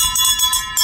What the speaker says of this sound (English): so that's my bells